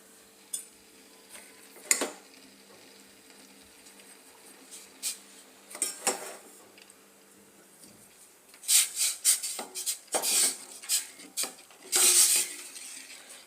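Scraping and clinking of a utensil against a pot, stirring a blended sorghum mixture for jonna gatka, slow at first, then a flurry of quick stirring strokes and taps near the end.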